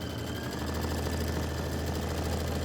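An embroidery sewing machine stitches out a quilt design, a steady, close mechanical hum and rapid needle chatter holding an even level throughout.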